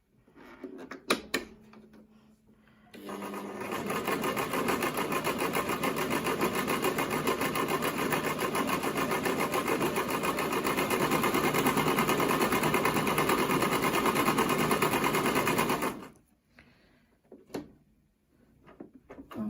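A Brother XL 5600 sewing machine stitches in one continuous steady run of rapid mechanical whirring, starting and stopping sharply, with a few knocks and handling clicks before and after.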